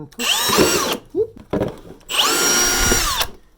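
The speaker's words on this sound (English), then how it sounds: "Start the drill." A power drill whines loudly in two long bursts, drilling holes in a plastic compost bin, with a short rattling pause between them.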